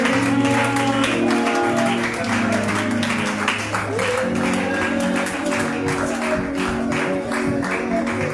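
A church congregation at an intercession gathering applauds and acclaims the prophetess Janine Delan. Continuous clapping and crowd noise run throughout over sustained musical tones.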